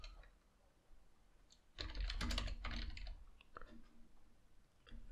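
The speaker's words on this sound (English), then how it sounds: "let's type Google Sheets." Fingers type a short burst on a computer keyboard, a rapid run of close clicks lasting about a second and a half, then a few scattered taps in a quiet room.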